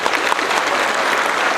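Dense, loud applause from the audience at a regional youth convention, greeting Meghalaya Chief Minister Conrad Sangma; a short, even wash of clapping with no talking.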